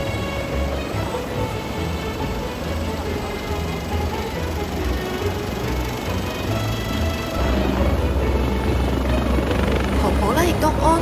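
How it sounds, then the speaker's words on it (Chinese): A Government Flying Service helicopter lifts off on Cheung Chau for a medical evacuation, its rotor and engine roaring loud and steady, swelling stronger toward the end, while people speak nearby. "直升机咧准备咧缓缓咁样升起啦"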